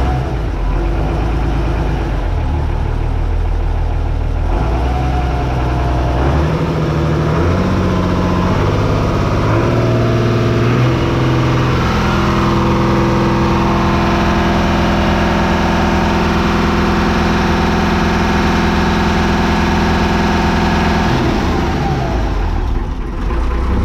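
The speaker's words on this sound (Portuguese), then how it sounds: "O motor tá redondinho." A jet ski or motorboat engine idles smoothly up close, loud and continuous, its steady droning hum shifting pitch briefly early on before settling into an even, unchanging rumble.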